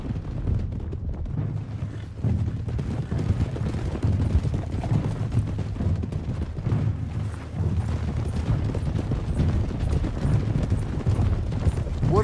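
Hoofbeats of a horse ridden at a steady gallop in Red Dead Redemption 2, a continuous rhythmic clip-clop with wind rushing underneath, no talk.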